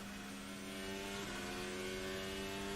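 Carlos Sainz's Ferrari Formula 1 car running at the Las Vegas Grand Prix during practice, bottoming out and scraping the ground: a steady, sustained engine tone at moderate distance, fairly faint, with no speech.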